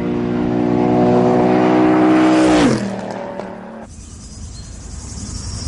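Ford's 10-litre, 810 hp road supercar engine holds a loud, high steady rev, then the pitch drops sharply as it winds down, leaving a quieter lingering whir and hiss.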